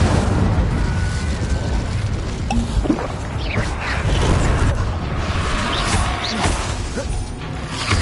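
Incendio fire spell cast in Hogwarts Legacy, a dense, continuous roar of crackling bursts, whooshes and rumbling impacts, loud and close throughout.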